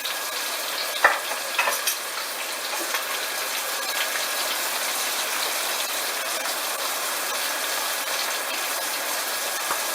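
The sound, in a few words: stir-frying green beans and carrot mixture in hot oil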